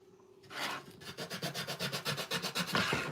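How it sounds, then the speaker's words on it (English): Quick rhythmic back-and-forth rasping of sandpaper on a wooden snowman cutout, about a dozen close, even strokes in a brisk steady pattern. "I'm gonna grab my snowman and do a little sanding."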